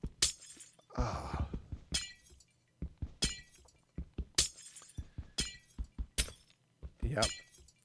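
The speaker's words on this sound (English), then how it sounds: "I'm going to break all that glass." In the Minecraft video game, glass blocks break in quick succession, sharp bright shattering cracks repeating every half second or so. A voice talks over part of the sequence while the crisp breaks stay close and prominent.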